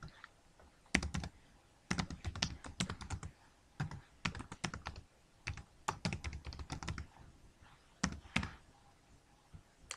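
Bursts of typing on a computer keyboard, quick clusters of crisp key clicks separated by short pauses, close and fairly quiet, with no voices.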